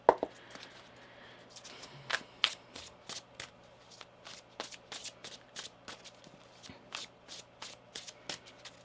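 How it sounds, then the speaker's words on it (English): Tarot cards are shuffled close up in a quiet room, giving a series of crisp, papery riffling bursts in an uneven rhythm, with soft handling noises in between. "One more shuffle here."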